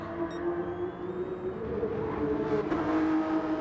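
In a racing video game, a Supra's engine drones as a steady, sustained tone that rises slightly under acceleration, close and continuous with no talking.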